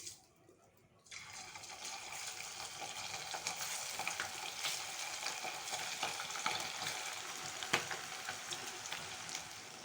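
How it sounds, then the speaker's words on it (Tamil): Marinated chicken pakoda pieces deep frying in hot oil at a roadside-style stall, a loud, steady crackling sizzle that bursts in after a quiet first second and continues with scattered pops. "இப்போ பெசரி வச்சுருக்க சிக்கன் அதில் போட்டுக்கங்க."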